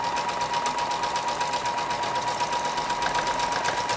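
A sewing machine free-motion quilting an autumn table topper, its needle stitching in a fast, even, continuous whir with a steady mechanical hum, close and alone.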